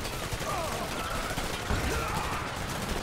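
Assault gunfire from units in the strategy game Command & Conquer 3: Tiberium Wars, heard as steady, overlapping rattling shots and battle din at an even level throughout.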